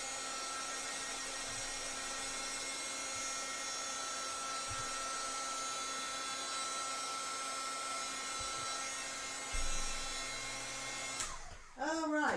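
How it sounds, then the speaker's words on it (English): A hair dryer blows steadily and close at a constant whine while drying a mixed media craft sleigh, then cuts off near the end with a brief clatter of handling noise. "Okay, I'm just going to finish drying this."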